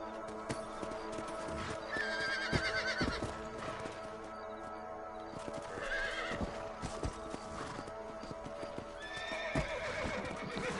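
In the video game Red Dead Redemption, horse hooves clip-clop steadily at a moderate pace, broken by several whinnies and snorts from the horse. The sounds come from nearby against a quiet background.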